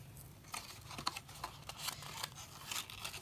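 Scored paper tabs are folded by hand for a small craft box, producing soft close crinkles, creases and light scraping taps in short irregular bursts.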